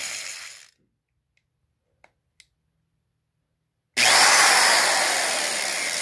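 A loud vintage Black & Decker corded 1/4-inch electric drill motor whirs for a moment, cuts off into silence with a couple of faint clicks, then starts up again loud and steady.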